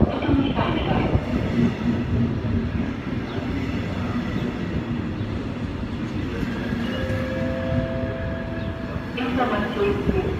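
A regional train from Frankfurt am Main pulls into a platform at Heidelberg station with a steady loud rumble, rolling wheel noise and a thin squealing brake tone near the end, faint voices underneath.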